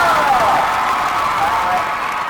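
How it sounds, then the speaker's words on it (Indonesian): Crowd at Sentul Circuit applauding and cheering for Marc Marquez and Dani Pedrosa, a steady loud wash of clapping with whoops over the whole stretch, voices mixed in. "Boleh tepuk tangan sekali lagi untuk Marc Marquez dan Pedrosa."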